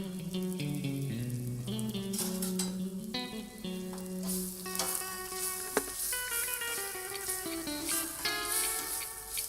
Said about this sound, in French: nous allons incorporer de la pâte à curry vert et nous allons laisser encore rissoler pendant approximativement 20 petites minutes